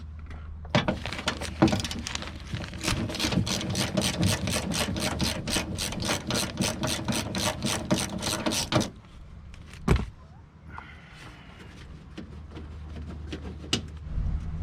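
A ratchet wrench loosening bolts on the power window motor of a 1989 Toyota Corolla, with a fast even run of loud clicks for several seconds, then a pause, a knock and a few scattered clicks.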